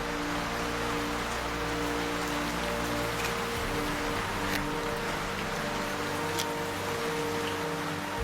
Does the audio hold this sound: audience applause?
no